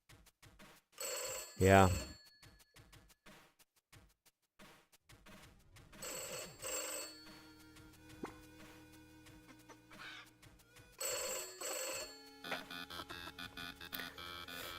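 A telephone rings in the video game Pixel Ripped 1978, sounding in several bright electronic bursts among game music and effects, with a person speaking briefly.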